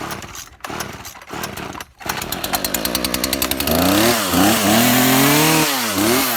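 A small gasoline engine cranks with the choke partly set, sputtering and catching in uneven bursts before it fires and runs with a rising, wavering motor drone, loud and close.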